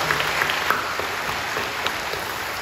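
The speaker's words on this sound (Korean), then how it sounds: "우리 격려하며 박수해 주시죠" A church congregation applauds during a Sunday worship service, a steady mid-level wash of many hands clapping together in a large sanctuary, continuous for a few seconds with no voices over it.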